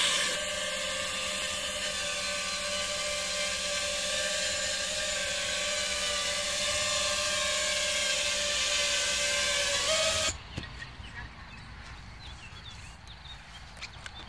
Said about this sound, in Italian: Armiamo il drone, sempre col prearma e armiamo.